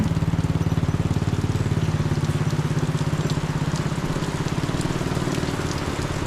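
Steady, dense rain drums on a surface nearby, with a constant low rumbling hum running underneath throughout.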